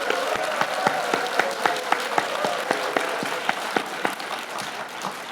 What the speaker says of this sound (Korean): 이왕 박수 치실 거 큰 박수 한번 주십시오.